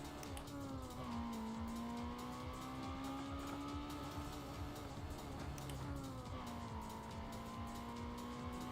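A car's engine in a racing video game screams up toward redline, its pitch sweeping up and shifting repeatedly, loud and continuous, with tire squeal mixed in.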